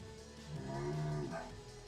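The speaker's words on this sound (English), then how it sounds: "Bull sound." A single drawn-out bull moo, low and tonal, swelling and fading over about a second, heard alone at modest volume.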